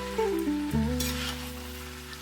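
Boiled cabbage stirred into a fish-head curry frying in a pan, a soft sizzle under a low sustained musical tone, ending in a brief sharp knock, no talk.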